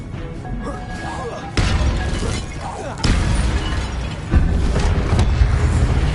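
Incendio fire spell cast repeatedly in Hogwarts Legacy, loud bursts of fiery crackling and whooshing that strike in sharp, successive blasts.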